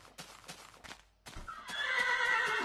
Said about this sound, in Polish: Biorę konia czarnego, chociaż wolałbym znaleźć Pegaza w końcu.